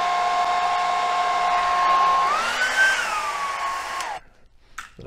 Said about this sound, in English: But I find that the hairdryer pushes everything back and the feathers stay the way you want them.